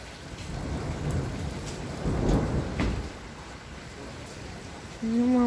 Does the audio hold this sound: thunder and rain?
yes